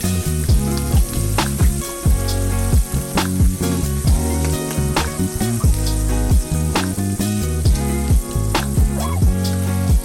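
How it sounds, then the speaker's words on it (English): Shrimp searing in a hot pan for a creamy seafood pasta, a loud, continuous close sizzle with crackling bursts and no talking. "I want to make sure I get a nice sear on both sides of those shrimp"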